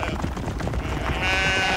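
Sheep bleat in a farm setting where a sheepdog works, a few wavering, nasal calls close by that run together over about two seconds, with a faint voice in the background.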